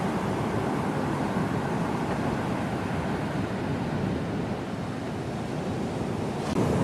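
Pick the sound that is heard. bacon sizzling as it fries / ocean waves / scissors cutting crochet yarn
ocean waves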